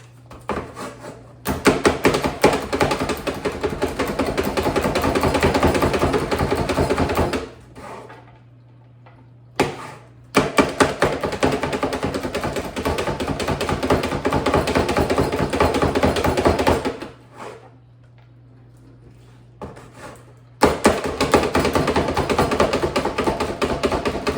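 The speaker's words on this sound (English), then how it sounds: "full on chop it with my food chopper" An electric food chopper whirs through onion in two long motor bursts separated by brief pauses, a steady loud buzzing drone with rapid blade chatter, close up and alone.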